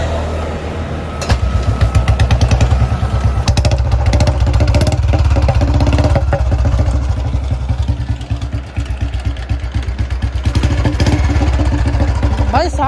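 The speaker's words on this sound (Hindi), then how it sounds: "अब भाई चेक करते हैं दोबारा से स्टार्ट करके बाइक को।" An old Royal Enfield Bullet motorcycle with an Electra engine starts up after about a second and settles into a loud, close, steady thumping idle, its rapid regular beats running unbroken to the end.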